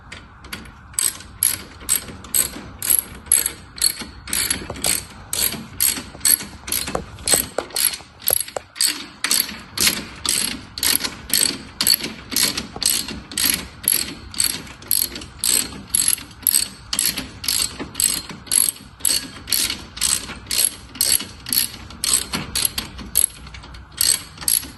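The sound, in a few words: ratchet with 10mm hex drive tightening a bolt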